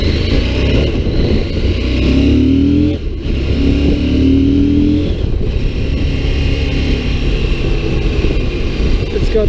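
A CF Moto MT800 Explore motorcycle pulls away hard in sports mode, its engine note climbing loud and close, dropping briefly at a gear change, then rising again over steady wind rush.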